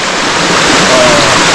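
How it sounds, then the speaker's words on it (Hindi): Spring water flowing and splashing over slippery, moss-covered rocks near a village by Khan Pur Dam, a steady close rushing wash with no pauses. "चश्मे का पानी आ रहा है।"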